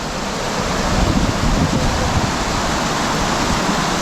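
A mountain river rushes through a metal mine in Mid Wales, giving a steady, loud, broadband roar of flowing water with no break and no voices.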